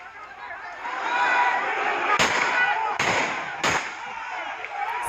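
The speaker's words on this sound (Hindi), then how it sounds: "साफ तौर पर इस वीडियो में पथराव के साथ साथ फायरिंग की आवाज भी सुनी जा सकती है।" Political clash between Congress and Akali Dal supporters in Jalalabad, Punjab, with stone throwing and gunfire: a loud crowd roars throughout while three sharp cracks ring out at intervals over the din.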